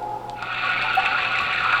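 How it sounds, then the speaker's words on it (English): A leaky faucet sound effect played from a Halloween vinyl record gives a steady run of water with a faint tone, close and fairly loud, with no clear separate drips. "Leaky faucet."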